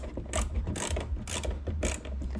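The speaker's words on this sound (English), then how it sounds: "Time to remove these two 8mm sockets, or 8mm nuts that's securing the tail light to the back." A socket ratchet works loose the two 8mm nuts holding a Tesla Model 3 tail light, giving rhythmic bursts of close, crisp pawl clicking about every half second over a low steady hum.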